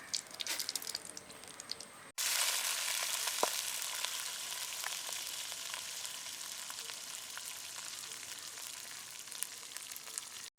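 Rice and mustard seeds hit hot coconut oil in a pan, bursting into a loud, continuous close sizzle with scattered pops after a quieter start.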